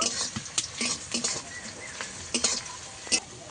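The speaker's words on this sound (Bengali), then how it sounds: "সাইজের পেঁয়াজ কেটে দিয়েছি, ভালো করে ভেজে নেবো একটু।" Chopped onions frying in a pan for a Bengali prawn and taro-stem dish, with a steady sizzle broken by repeated scrapes and clinks of a spoon stirring against the metal, close and fairly loud.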